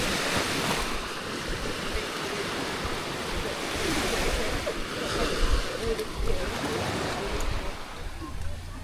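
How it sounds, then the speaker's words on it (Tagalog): Choppy sea waves wash and splash around a boat during island hopping, a loud continuous rushing with wind buffeting the microphone and people talking over it. "Medyo may alon ngayon."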